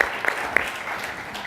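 Audience applause at an industry summit, a dense steady wash of clapping with a few sharper individual claps standing out, fairly close and filling the whole stretch.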